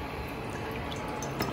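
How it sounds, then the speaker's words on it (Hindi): One cup of water is poured into a bowl while making pani puri water, a soft, steady liquid trickle and splash heard close up and alone, with a slight bump near the end. "उसमें डाल रही हूँ 1 cup पानी।"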